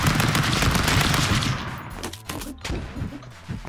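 Rapid automatic gunfire rattles loudly in a dense burst from the Stick Fight video game, then fades into scattered, sparser shots and impacts.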